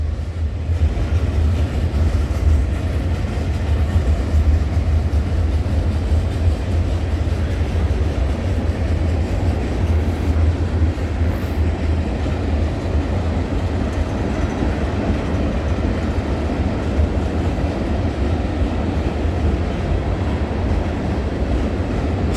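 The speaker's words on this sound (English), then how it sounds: "So nice to get herself the Elgin and Joliet Eastern Heritage Unit, the orange one." A freight train with an orange Elgin Joliet & Eastern heritage locomotive rolls past trackside at night, a loud, continuous low rumble of wheels and cars filling the whole stretch with no voices.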